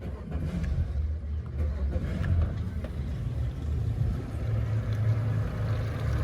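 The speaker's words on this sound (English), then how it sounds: "let's go ahead and start the engines" Twin Yamaha 200 four-stroke outboard engines on a 2018 Grady White Fisherman 257 rumble at idle after starting, a low steady throb with slight revving surges, close by and continuous, with no talking.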